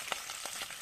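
Bacon frying in a pan, a steady hissing sizzle with a few brief crackling pops, moderately quiet and heard alone.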